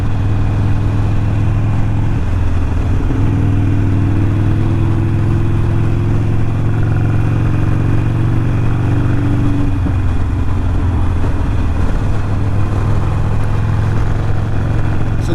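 Motorcycles ride along a road in Wales past slate hillsides, a steady loud engine drone with gear changes and shifts in pitch, heard from on the bike with constant wind rush and no talk.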